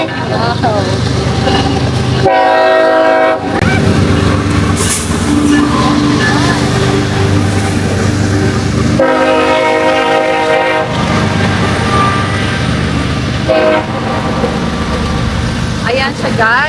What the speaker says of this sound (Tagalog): mai-share ko sa inyo, guys, na meron ditong train